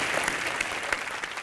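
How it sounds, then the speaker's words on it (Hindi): A studio audience at a live Hindi comedy show breaks into applause, a thick, continuous patter of many hands with sharper claps poking out, steady and full for about a second and a half. "जोरदार तालियां आ जाए."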